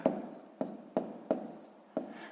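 Numbers written by hand for a sixth-grade decimal addition exercise, heard as five short scratchy pen strokes in an uneven rhythm, close and fairly quiet, with no talking.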